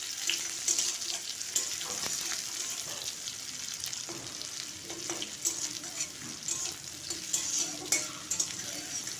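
Chopped onion fries in a pan for a spinach and lentil dish, giving a steady close sizzle with soft crackles and occasional stirring scrapes throughout, with no talking.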